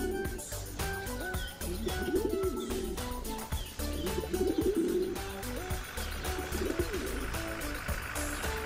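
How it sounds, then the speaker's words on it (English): Pigeons coo outdoors in repeated soft, throaty bursts, fairly close, alongside a few faint chirps and some background noise. "She's feeding pigeons outdoors."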